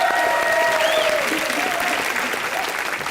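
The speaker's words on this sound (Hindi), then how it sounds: "जोरदार तालियां करिश्मा के लिए भी।" A studio audience at a Hindi television comedy show applauds in loud, sustained clapping that fills the whole stretch, easing slightly toward the end, with a voice faintly audible over it.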